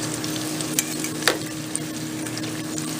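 Artichokes fry in hot oil at about 375 Fahrenheit, giving a steady close hiss and sizzle with a few sharp pops.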